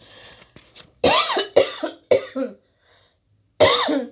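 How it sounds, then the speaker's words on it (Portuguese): A woman coughs in four harsh, close bursts: three in quick succession, then a final one after a short pause, with no talking in between. "Esses dias eu tenho tido uma tosse, então me desculpem, mas eu não estou conseguindo controlar."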